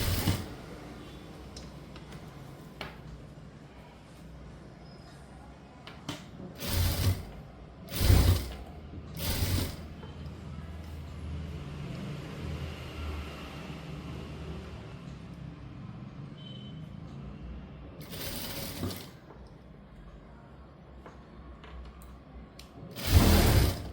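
A sewing machine stitching the armhole of a blouse, with several short mechanical bursts of whirring and clacking that stop and restart among quieter gaps and faint background noise.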